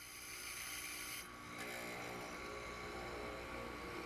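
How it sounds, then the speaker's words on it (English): A power tool cuts mortises into wooden stretchers in a woodworking shop, giving a steady loud whine and rumble, with a brief dip in pitch partway through. "we batch cut the first mortise on all 4 of our stretchers"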